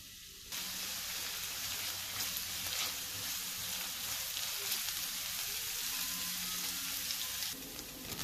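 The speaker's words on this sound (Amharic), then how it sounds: "ያዘጋጀሁትን ሽንኩርት እዚህ ላይ አቁላለዋለሁ።" Onions frying in a pan for an Ethiopian chickpea salad, a steady dense sizzle that starts abruptly and holds evenly for several seconds before dropping off, close and fairly loud with no talking.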